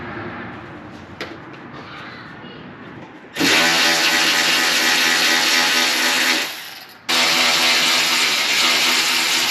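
A power tool loosens the top bolts near a car's radiator, whirring loudly for about three seconds, pausing briefly, then running again, after quieter handling clicks at the start with no talking.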